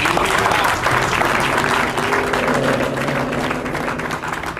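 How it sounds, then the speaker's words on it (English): Loud, dense applause from a crowd at a U.S. Army change-of-command ceremony at Fort Leonard Wood, continuous and close, with a faint murmur of voices underneath. "How about a round of applause for that?"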